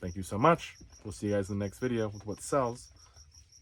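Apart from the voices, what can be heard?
crickets chirping outside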